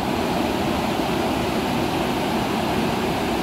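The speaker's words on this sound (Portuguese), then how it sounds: "O vertedor aí é para quem nunca viu, ouviu poucas vezes, tá vertendo água, olha." Water pours over the spillway of the Zabumbão dam, a dense, steady roar of rushing water heard close and loud without pause or talk.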